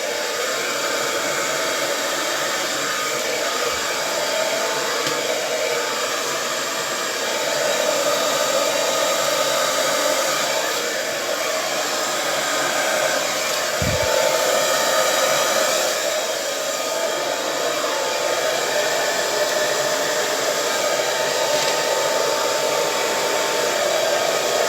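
A hair dryer blows steadily and loudly over poured acrylic paint cells for nearly half a minute, a constant rushing whoosh with slight rises in strength and a couple of faint low bumps.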